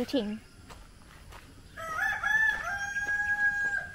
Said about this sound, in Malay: Oh, ada ayam.